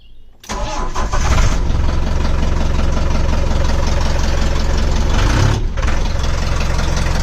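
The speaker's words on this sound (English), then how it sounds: "I need to move the van. It is a nice 30 degrees. So let's see how she starts up cold." A Ford Transit van's engine starting cold after sitting several days in 30-degree weather, a brief crank catching at once into a loud, steady, close idle that runs on with a short dip near the end.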